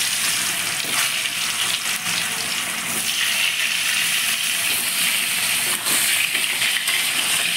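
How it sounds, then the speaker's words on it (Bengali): Turmeric- and salt-coated potato pieces frying in hot oil, a loud continuous sizzle and crackle with small pops throughout. "আলুগুলো এক এক করে ভেজে নিচ্ছি।"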